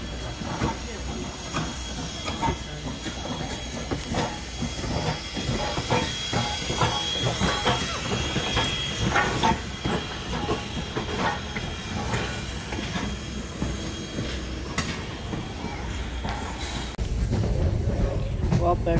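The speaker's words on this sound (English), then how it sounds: "That was the train ride." A small tour train rolls along its tracks with a steady rumble, hiss and faint clickety-clack, loud and continuous throughout, with people talking over it.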